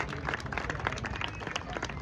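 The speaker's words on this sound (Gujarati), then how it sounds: "એમના માટે પણ એકવાર જોરદાર તાળી વગાડજો." An audience at a garba night in Tariyawad applauds for a performer named Darshanaben, a brief burst of scattered clapping heard from some distance at moderate volume.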